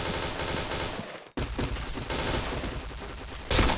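Rapid video game gunfire during headshot training, dense bursts of shots close and loud, with a brief pause midway before the firing resumes.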